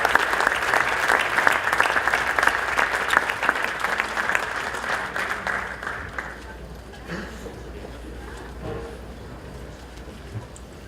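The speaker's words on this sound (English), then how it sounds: "Please, huge round of applause for these guys." An audience at a charity gala applauds in a dense burst of clapping that starts loud and thins out over several seconds until only scattered claps remain, with a few voices underneath.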